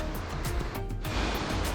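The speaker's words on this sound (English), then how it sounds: "it's a beautiful waterfall." A steady rushing roar of Thunder Creek Falls on New Zealand's South Island West Coast, broad and continuous, with no voices.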